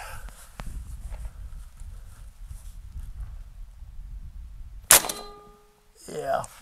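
An SWA FD-27L 20-gauge tactical air shotgun fires a single sharp, loud shot partway through, preceded by quiet handling noise and followed by someone speaking briefly.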